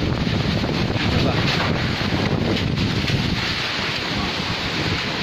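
Strong wind gusting and buffeting the microphone in a steady, loud roar, shifting direction without pause; no speech.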